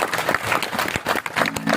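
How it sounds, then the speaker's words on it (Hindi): Dense audience applause at a live Himachali folk music stage performance, a steady wash of many hands clapping together with crowd noise and no clear pauses. "अब बजाओ ताली जोड़।"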